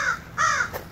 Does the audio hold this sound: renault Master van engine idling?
no